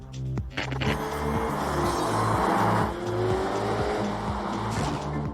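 A Ferrari Roma grand tourer drives by with a strong, steady engine note that swells and holds for several seconds, with a brief tire-squeal-like edge near the end.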